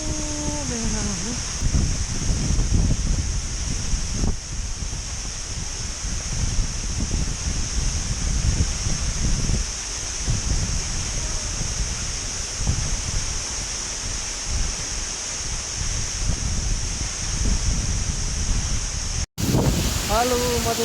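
Ghorla waterfall roars in a steady, broad rush of falling water close by, mixed with wind buffeting the microphone, while a person speaks intermittently over it.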